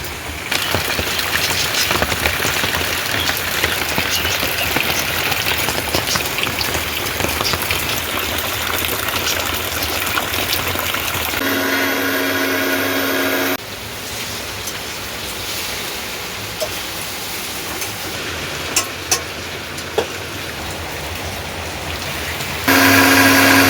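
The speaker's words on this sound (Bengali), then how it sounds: "বিরাট কি বৃষ্টি হচ্ছে" Heavy rain pours down steadily outside a home kitchen, a dense broadband wash that stays loud throughout with a brief shift in texture midway and a few sharp knocks near the end.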